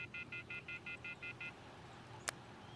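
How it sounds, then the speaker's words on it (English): Cell phone number dialing in a visual novel game: eight quick, evenly spaced keypad tones in a row, then a short pause and a sharp click. "I took out my cell phone and dialed the first number from my contact list."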